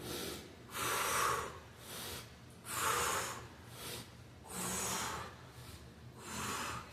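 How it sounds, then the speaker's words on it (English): Forceful breaths during core exercise reps come as a rhythmic series of sharp exhalations, several evenly spaced bursts with quieter inhales between, close and alone. "When you're coming up with it, you're breathing out."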